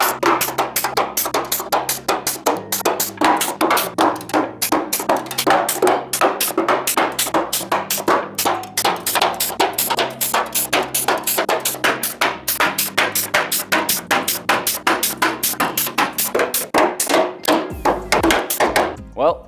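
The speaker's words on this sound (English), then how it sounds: "I'm gonna punch as many holes as I can with this" A rapid string of sharp metallic punches and thunks as a tool pierces holes into spot welds on a GR Supra body panel, loud, close and almost machine-gun steady, with a brief lower thud near the end.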